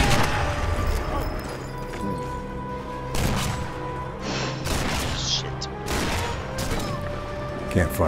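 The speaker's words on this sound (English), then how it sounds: "Rocket launcher." Explosions and bursts of gunfire in the Sniper Elite 4 video game, set at a winter market. Repeated loud blasts and rattling shots come in clusters, several heavy booms spread across the stretch, with a voice briefly among them.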